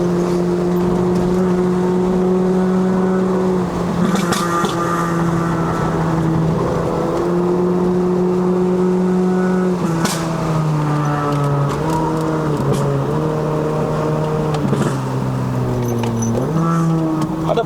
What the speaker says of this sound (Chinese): 每次升档都不会少过4000转啊